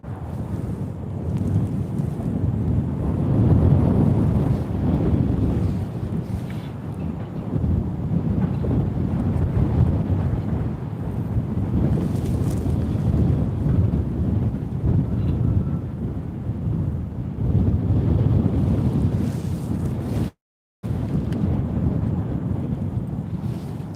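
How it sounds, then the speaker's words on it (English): Strong, gusty wind buffets the microphone on a cold railway station platform, a continuous low roar that swells and eases for the whole stretch, with no talk. "that wind's quite strong today"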